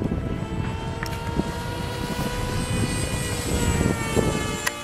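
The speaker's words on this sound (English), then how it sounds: "I'm running a 2200 milliamp 3 cell on this flying wing, and I seem to fly pretty good." Foam board RC flying wing on a 2200 mAh three-cell battery, its electric motor and propeller droning steadily and fairly close throughout, with a continuous buzzing whine over wind noise.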